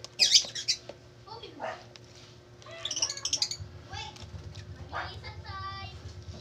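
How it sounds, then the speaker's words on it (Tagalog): Pet budgerigars of the opaline mutation chirp and squawk in short bursts and scratchy chatter, near and fairly quiet, with faint background hum. "Yung ibon to, opaline siya."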